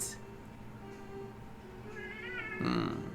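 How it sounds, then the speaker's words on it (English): An anime cat meows faintly beside a quiet musical background, one wavering meow followed by a louder, brighter cry near the end. "Oh, cat."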